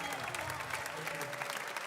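Brief, dense applause from an audience thanking a gospel choir after its performance, a steady wash of clapping heard close throughout.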